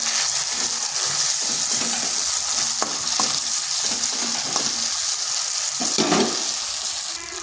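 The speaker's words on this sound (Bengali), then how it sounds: "আর দিচ্ছি কাজুর পেস্ট আর সামান্য পরিমাণ হলুদ। এরপর এটাকেও বেশ কিছুক্ষণ কষে নেব।" Cashew paste and turmeric fry in a pan for a potato and cauliflower curry, giving a loud, steady sizzle up close with repeated scraping and stirring strokes throughout.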